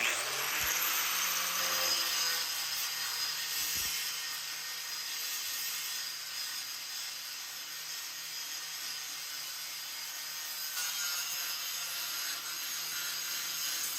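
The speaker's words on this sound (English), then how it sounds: "Now I just kind of got to polish it, get all the old rust off." A power tool polishing old rust off steel for a deer skull mount hanger, giving a steady high abrasive hiss and whir that runs close and continuous for the whole stretch, with no talking.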